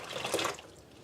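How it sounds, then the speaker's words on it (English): Hot water dumped from warm canning jars into a sink of dishwater, a short near splash and trickle lasting about a second. "dump that hot water in my dishwater,"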